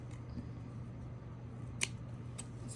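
Scissors cutting fabric for a crochet apple bag lining, a few faint, sharp snips over a quiet room hum.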